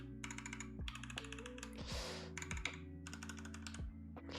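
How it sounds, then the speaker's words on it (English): Fingers type on a computer keyboard fitted with PBT and ABS keycaps, a close, quiet run of clicky keystrokes in quick bursts, with a few brief pauses between them. "the PBT keycaps are like more the loudest, I would say, the most clicky ones"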